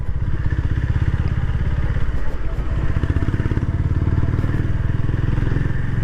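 A Honda CB350RS OBD2 motorcycle with a long-stroke engine runs steadily, its exhaust giving a close, even, throbbing thump with a rough mechanical rattle throughout.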